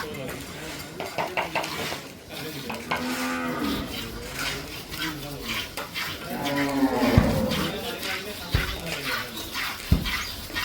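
A dairy cow that has recently calved moos loudly and close by in drawn-out calls, with people talking and some clattering of pots or metal in the background.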